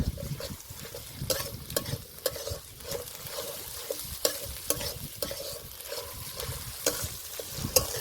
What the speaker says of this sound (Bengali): এবার দিয়ে দেব আদা বাটা রসুন বাটা আদা রসুন দিয়ে কিছুক্ষণ নেড়ে নেবো